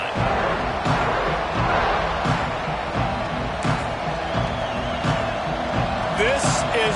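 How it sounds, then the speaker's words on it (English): A college football stadium crowd roars continuously, a loud dense wall of cheering with rhythmic thumps and chanting, while a commentator talks over it throughout. "This crowd ready to make its presence known."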